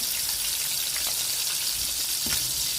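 Prawns deep-frying in oil for a crispy restaurant-style prawn fry make a steady, dense crackling sizzle, close and continuous, with no voices.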